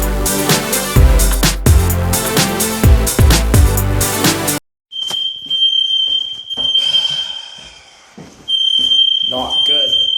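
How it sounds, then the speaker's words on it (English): Loud music plays for several seconds, then cuts out and a fire alarm sounds a shrill, steady tone twice, with a person talking between and under it. "the fire alarm's going off"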